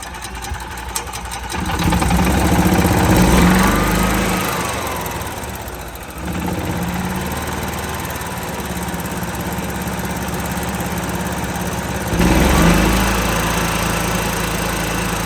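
An EZGO EFI golf cart engine cranks and catches, then runs at a steady small-engine drone with a rise and dip in revs and a second surge near the end, loud and close with no talking.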